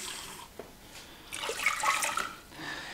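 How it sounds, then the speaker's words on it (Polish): Water is poured into a pot in a home kitchen, giving a soft, brief splashing gush that swells and then fades, fairly quiet and with no talk. "Do garnka wlewamy 2 kubki wody."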